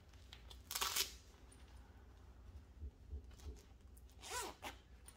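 Zipper on the leg of leather Daredevil cosplay suit pants being zipped, a quick close rasping burst near the start and another drawn zip toward the end, with soft handling rustle between.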